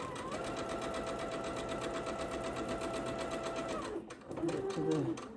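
Sewing machine stitching the seams of a charm pack quilt, its steady motor hum and rapid needle chatter running continuously for about four seconds before stopping, followed by a brief rustle of fabric.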